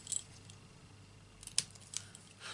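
Scissors cutting through card for a Stampin' Up craft project, heard as a few faint, close snips and small metallic clicks spread across a quiet background, with no talking.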